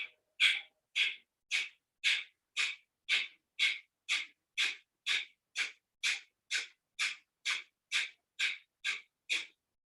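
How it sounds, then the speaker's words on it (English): Forceful bellows breathing during yoga practice comes as about twenty sharp, rhythmic nasal blasts, evenly spaced roughly every half second, close and loud with silence between. "Inhale and exhale forcefully in this posture."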